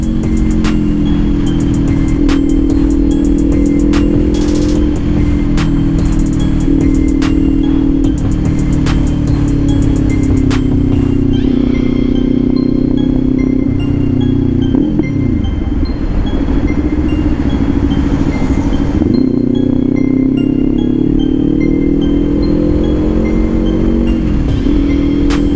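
A Kawasaki Ninja 500 SE motorcycle runs steadily on an expressway, its engine droning loud and close under constant wind roar, with pitch rising and dipping as the rider shifts through gears.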